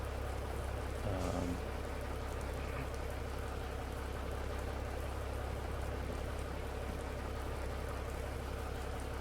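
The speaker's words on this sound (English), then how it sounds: "Ooh, it's foggy and rainy." Steady rain in the truck-driving game American Truck Simulator, falling on a foggy Montana convoy route, a continuous dense patter over a low engine rumble throughout with no pauses.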